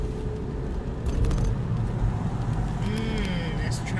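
Car traffic rumbles on the Brooklyn Bridge in New York, a close, steady broadband roar of engines and tires with a brief tonal horn-like sound near the end.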